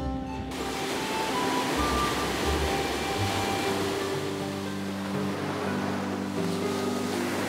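Ocean waves wash steadily onto a white-sand island beach in Oman, a continuous rushing surf with some wind and a faint low hum in the background.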